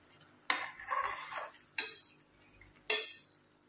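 A spoon stirs potato and green chilli vegetable in a pan, three sharp scraping strokes spaced about a second apart, with a soft sizzle in between; close and fairly quiet, with no talking.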